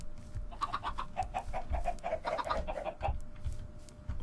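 Chickens clucking at a coop in a modded block-building video game: a rapid, continuous run of close, clear clucks lasting several seconds over a low background hum.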